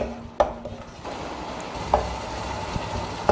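Tomato masala with coriander and chilli powder being stirred in a pan for bitter gourd sambar, a low steady sizzle broken by a few sharp scrapes and knocks of the spoon against the pan.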